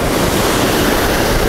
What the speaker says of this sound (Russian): Здесь волны.